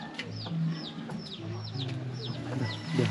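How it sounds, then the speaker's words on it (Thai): Chickens at a rural village home cluck in a repeated, close chatter of short calls, with low background rumble and no clear speech. "มีไก่หลายเด้อเนาะ"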